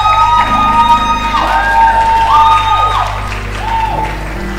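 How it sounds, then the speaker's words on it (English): Audience at a food science and technology induction ceremony applauding and cheering for a vote-of-thanks speaker, a steady crowd roar with whoops over a low hum, holding for several seconds before easing slightly. "Please, a round of applause for her."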